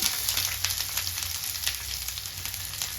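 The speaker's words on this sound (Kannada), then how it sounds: "ನೀಟಾಗಿ ಅದನ್ನು ಫ್ರೈ ಮಾಡ್ಕೊಳ್ಳೋಣ ಸೊ ಆನಿಯನ್ ಒಂಚೂರು ಬ್ರೌನ್ ಆಗಲಿ ಅಷ್ಟಂತ ನೀಟಾಗಿ ಫ್ರೈ ಮಾಡ್ಕೊಳ್ಳೋಣ" Mustard seeds, cumin, green chillies, curry leaves and chopped onion fry in hot oil for a chickpea gravy, giving a steady close sizzle with faint crackles and no voices.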